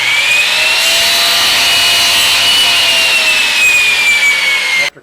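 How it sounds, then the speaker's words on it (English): An old Rockwell motorized miter box slicing wooden crown molding, one loud continuous whirring cut close to the microphone that ends abruptly after several seconds. "I've set up my very old Rockwell motorized miter box to cut these crown moldings to fit the head casings"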